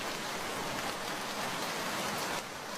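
Rain falls on a cartoon rainy day as a steady, even hiss of drops, continuous and fairly soft, with no voices over it.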